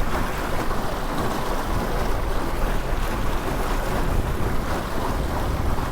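A small fishing boat moves quickly under an ePropulsion Spirit 1.0 Evo electric outboard rated around 3 horsepower. Heavy wind buffeting and rushing water fill the clip steadily throughout, with the quiet motor buried beneath them.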